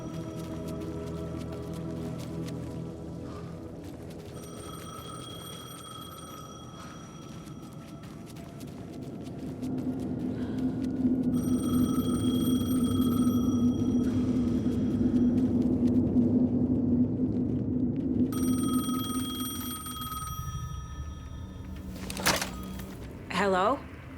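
A payphone rings in the horror game Alan Wake II: three electronic ringing bursts, each a few seconds long with pauses between, over a low ambient rumble with a brief clatter near the end.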